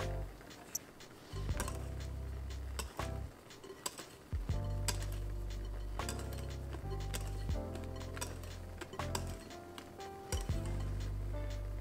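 Strawberry puree is mixed into mousse in a bowl, with repeated utensil clinks and taps against the bowl at an uneven rhythm over a low background hum, close and moderately loud.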